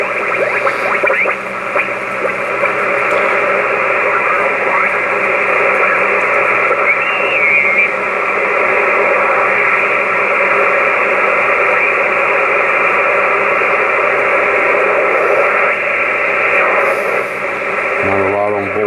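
Kenwood TS-50 transceiver, back in working order after a repair, tuned to the 40 meter amateur band, giving off a steady wash of band noise and static with faint signals drifting through, loud and continuous throughout.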